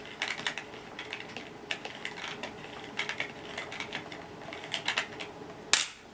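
A Dyson Light Ball Multi-Floor upright vacuum (2017, UK) has its plastic control turned until it stops, giving a run of small, close, crisp ratcheting clicks in quick irregular bursts, ending in a sharper final snap.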